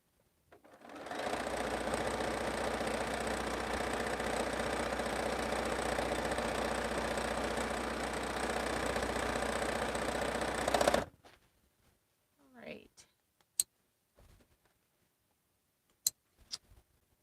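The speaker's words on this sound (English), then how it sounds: "I'm going to sew one more and then I'm going to cut the chain" A sewing machine runs a quilt seam in one continuous steady whir for about ten seconds, then stops, followed by a few quiet clicks and a brief rustle.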